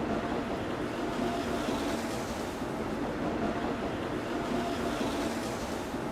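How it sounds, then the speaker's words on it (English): A train screeches into a station, a steady, dense rumble of wheels and rails with a faint high squeal running through it, filling the scene without a break. "the train comes screeching into the station"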